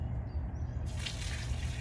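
Water pours from a container into a small newly built backyard mini pond holding fish, a steady splashing wash that swells louder partway through, close and continuous with no talk.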